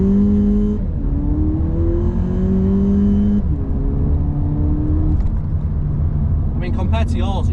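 A car engine idles close by and blips its revs a few times, with short rising surges over a steady rumble and someone briefly speaking near the end.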